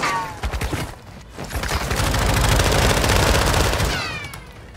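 Rapid automatic gunfire in Call of Duty DMZ, dense bursts of shots building into a sustained loud fusillade, close and harsh.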